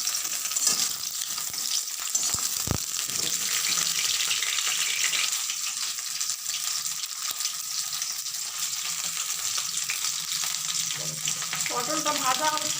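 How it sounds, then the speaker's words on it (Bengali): Pointed gourd (potol) pieces fry in hot oil with a steady, close sizzle that fills the whole stretch, and there are occasional clinks and scrapes of stirring, with no voices. "পটলটা ভাজা হচ্ছে, ভালো করে ভাজা হয়ে গেলে লাল লাল করে ভাজতে হবে"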